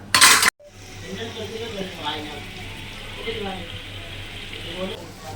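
Tomatoes sautéing in a pot for homemade chicken biryani, with a spoon scraping and clinking against the metal over a steady low cooking hiss, heard after a brief loud burst at the start.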